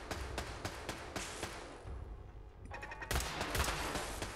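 Rapid gunfire in the video game Fallout 4, dense bursts of shots crackling continuously at moderate level, with a brief lull midway before heavier firing resumes.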